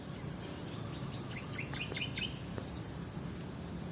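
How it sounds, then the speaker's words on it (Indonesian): A zebra dove chick, an only chick in its nest, makes a quick series of faint, high, thin chirps over a steady hiss of outdoor background noise. "Perkutut lokal anak tunggal, bosku."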